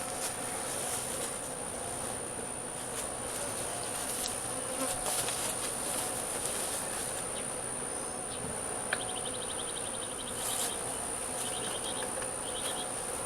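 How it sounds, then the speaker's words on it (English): Steady, dense buzzing of many bees in a hive box, filling the air continuously, close by, with faint higher chirps of insects or birds in the background. "Alright, so here's our bees."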